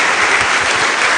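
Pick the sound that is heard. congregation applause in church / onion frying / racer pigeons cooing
congregation applause in church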